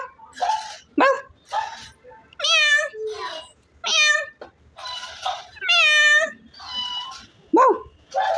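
A voice imitates a dog barking for a child's toy, with repeated yelping bow-wow calls and whimpering, pitched barks that alternate with short talking between them.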